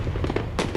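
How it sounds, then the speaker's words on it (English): A fireworks sound effect, a quick run of sharp pops and crackling bursts, several close bangs in an uneven rhythm with one louder blast near the end, no talking. "oh, I need some fireworks"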